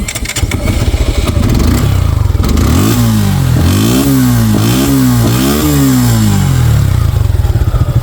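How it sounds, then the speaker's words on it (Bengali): A second-hand Suzuki Gixxer 155cc motorcycle engine starts and idles, then revs up and down several times in a steady run of throttle blips, loud and close with no talking. "বাইকটা স্টার্ট করে সাউন্ড কন্ডিশন দেখাতে হবে"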